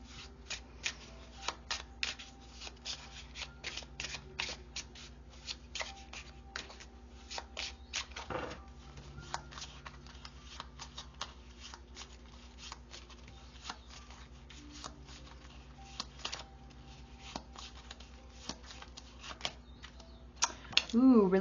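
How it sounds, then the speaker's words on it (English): Tarot cards are shuffled by hand in a long run of quick, close riffling bursts and soft card clicks that repeat irregularly, with a brief louder clatter near the end. "And then I'll pull tarot cards."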